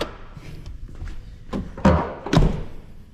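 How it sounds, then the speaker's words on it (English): Hood release on a 2008 Silverado with a 6.0 Vortec, a series of dull thunks and thuds, the last two heavier and sharper, heard close with no talk. "Let's pop the hood."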